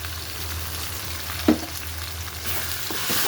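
Ground spices with garam masala and black salt sizzling in a hot pan, a steady frying hiss with one sharp scrape of stirring partway through, close and alone without talk.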